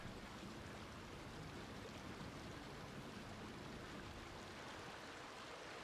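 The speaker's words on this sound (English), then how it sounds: "Here's some soothing water noises." Soothing waterfall water in a video game rushes in a steady, soft broadband wash, continuous and alone without any voices.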